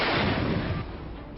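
Indigenous Howitzer artillery gun fires as part of a 21-gun salute for Independence Day in Delhi, a loud broadband blast rumbling and decaying over about a second, close and alone.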